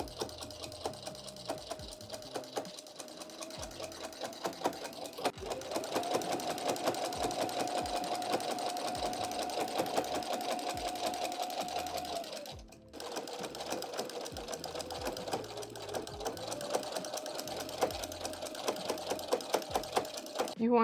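A home sewing machine stitches a minky blanket with an even, close mechanical whir that speeds up, halts briefly and resumes, while a person talks throughout.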